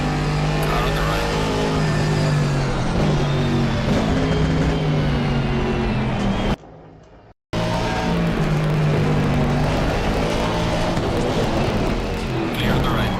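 A race car in the Assetto Corsa Competizione racing game roars loud and steady throughout, its engine tone shifting slightly, broken by a sudden dropout about two-thirds of the way in before resuming.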